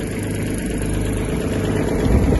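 A Kubota GB-20 mini tractor engine idles steadily with the power take-off engaged, giving a loud, continuous mechanical drone close by.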